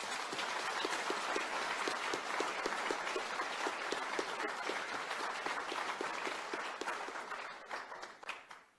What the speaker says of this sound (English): So please join me in thanking them in a round of very warm applause.